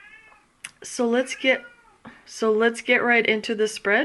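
A spoiled, bored domestic cat meows indoors during a tarot reading, its calls close and mixed with a person talking steadily over them.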